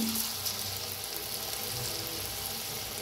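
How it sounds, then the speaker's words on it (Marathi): Chana vada batter meets hot oil and fries with a steady, dense sizzle and soft crackle throughout, close and fairly loud, with no voices. "आता तेल बी चांगलं गरम झालेलं आहे बघा, तर असं सोडायचं या पद्धतीनं।"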